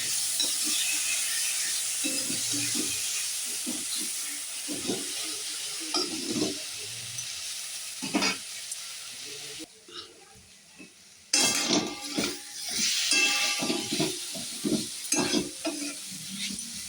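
Tomatoes go into a sizzling pan of small-fish curry with potatoes, crackling and frying steadily while a spoon stirs and scrapes in repeated bursts, with a brief water-like splash partway through.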